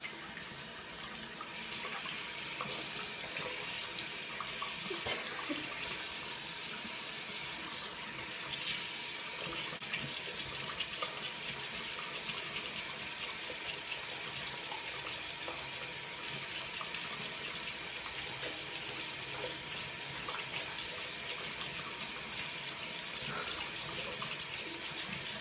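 A faucet runs warm water into a glass in a steady, unbroken stream, the water hissing and splashing continuously at close range without any talking.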